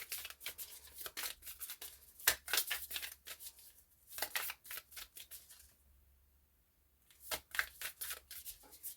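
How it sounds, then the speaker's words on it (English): Tarot cards are shuffled close up in quick papery riffles and flicks, coming in irregular bursts with a short quiet pause before the shuffling resumes. "And as I'm shuffling the cards"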